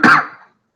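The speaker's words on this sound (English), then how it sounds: "Pardon my cough." A single sharp cough close to the microphone indoors, a brief harsh burst that fades quickly into silence.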